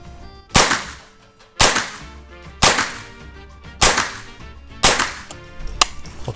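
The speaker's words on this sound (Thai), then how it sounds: "ได้เลยครับผมจะยิงเร็วนิดนึงนะ" A Keltec SU-22 .22LR rifle fires six sharp, loud shots at a 25-metre range, spaced about a second apart and coming quicker toward the end, each crack trailing a brief echo.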